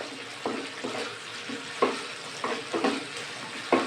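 Spice paste cooks down with softened tomato in a pan for a Bengali pabda fish curry, under a low sizzle with repeated scraping stirs at an irregular rhythm, close and fairly quiet, with no talking.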